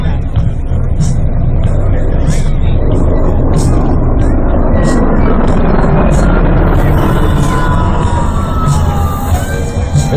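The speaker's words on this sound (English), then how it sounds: "Your MB-22 Osprey on the high-speed pass" An MV-22 Osprey tiltrotor makes a high-speed pass at an air force base air show, a loud, continuous low rumbling drone over crowd noise and chatter, steady for about ten seconds.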